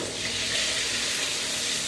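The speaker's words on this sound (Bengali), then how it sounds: "এখন আমি ক্যাপসিকামগুলো দিয়ে দিচ্ছি, ক্যাপসিকাম আর হচ্ছে পেঁয়াজ কলি, এগুলোকে একটু ভেজে নিব।" Capsicum and spring onion fry in a pan, producing a soft, even hiss of sizzling oil that holds steady for a couple of seconds with no talking.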